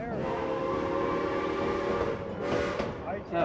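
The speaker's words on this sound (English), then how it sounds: "that's the warning whistle for our first high metal trestle" A long, sustained train whistle sounds loudly over rumbling rail noise, with a brief shift near the end.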